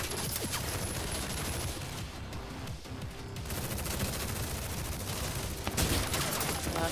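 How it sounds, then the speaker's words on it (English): Minigun fire in the Tekken 7 story mode campaign, a continuous dense roar of rapid shots lasting several seconds, briefly thinning midway before resuming at full loudness. "A minigun?"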